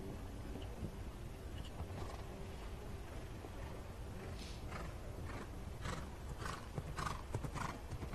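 Hooves of a show jumper thud and clop on the arena at a World Cup show jumping event, intermittent footfalls over a faint, steady background hum.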